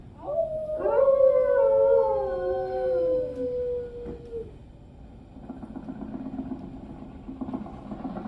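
An animatronic dog on Walt Disney's Carousel of Progress ride lets out one long, wavering howl that rises then slowly falls, followed by a low mechanical rumble in the background.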